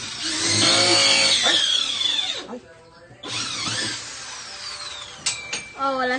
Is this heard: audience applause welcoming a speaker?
no